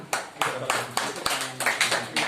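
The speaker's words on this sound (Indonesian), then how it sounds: "tepuk tangan" Students in a classroom clap in a quick burst, about ten sharp claps in a steady rhythm, close and moderately loud, with a faint voice underneath.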